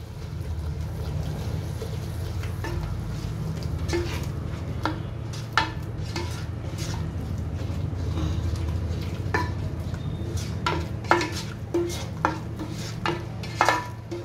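Pav bhaji masala being stirred into buttery gravy in a pan for Mumbai street-style pav bhaji, with a steady sizzling bed broken by scattered sharp clinks and scrapes of a spoon against the pan.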